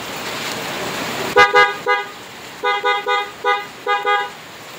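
Loud, close honks from a newly installed horn on a Suzuki Gixxer motorcycle, sounded in a quick irregular series of about nine short beeps after a faint background hum.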